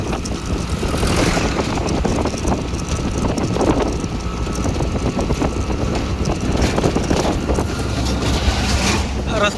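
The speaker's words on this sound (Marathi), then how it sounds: "ट्रॅक्टर लेवलिंग ट्रॅक्टर आहे लेवलिंग।" A levelling tractor's engine drones steadily and loudly on a road near Paranda, a continuous rumble mixed with wind buffeting the microphone, with no break throughout.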